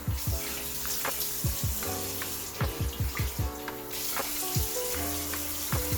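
Tap water runs into a bathroom sink while someone rinses their face, a continuous hiss broken by irregular splashes and slaps of water close to the microphone, with no talking.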